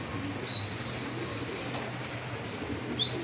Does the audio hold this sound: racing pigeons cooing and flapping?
yes